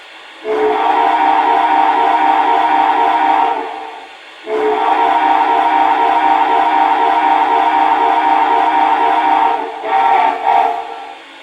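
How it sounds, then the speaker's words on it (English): An MTH model locomotive whistle sounds in two long, steady, haunting blasts, then a short broken toot near the end, loud and close with no talking. "this whistle is just amazing. Listen to this."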